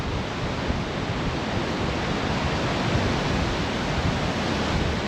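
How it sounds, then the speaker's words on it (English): Ocean surf crashes against rocks on the wild Western Australian coast near Quobba Point, a dense, continuous broadband roar that stays loud and close, with wind buffeting the microphone. "the way this water comes in and smashes up on these rocks"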